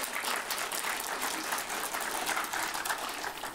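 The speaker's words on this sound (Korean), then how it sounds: "다시 한번 우리 각도 도민회장과 각도 도지사님들한테 큰 박수 부탁드리겠습니다" A hall audience at a Saemaul leaders' convention gives sustained applause, a dense, even clatter of many hands clapping from start to finish.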